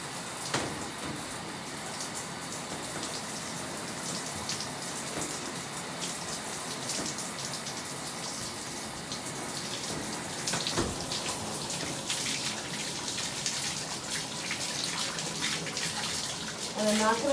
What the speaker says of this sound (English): And then turn the water on and rinse.